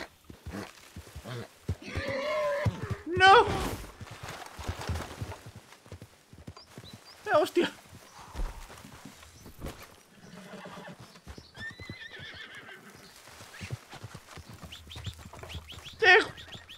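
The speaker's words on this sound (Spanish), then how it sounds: "es el primer caballo que no se ha dejado domar" A wild horse in the video game Red Dead Redemption 2 neighs and whinnies in several loud bursts between stretches of clip-clopping hooves and scuffling, with bird-like calls around.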